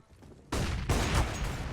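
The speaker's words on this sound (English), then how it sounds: "Glaive actually just pre-aimed and pre-fired, and Regali just killed him right after." Gunfire crackles in a competitive shooter game during a fnatic Rising vs BIG Academy match, with a sudden dense burst of shots followed by a second burst.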